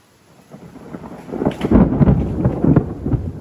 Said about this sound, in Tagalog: Ang talim ng kidlat oh. Ayan oh, ang lakas ng ulan.